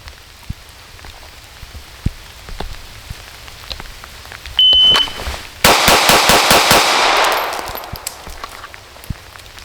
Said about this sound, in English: 6 rounds, 7 yards on the beep.